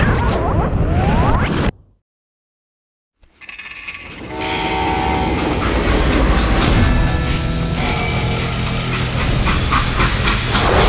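Freight train in the Call of Juarez Gunslinger video game, a loud close rumble with a horn blast at first, then a dropout to silence, followed by steady rolling wagon noise and clanking.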